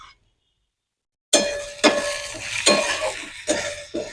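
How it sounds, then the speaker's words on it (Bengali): Garlic fried in oil and stirred in a pan: after a moment of silence, a close, steady sizzle starts with repeated spatula scrapes and clinks against the pan, several distinct strokes, no talk. "রসুনটা দিয়ে আগে ভাজবো, আগে বেশি করে নাড়বো"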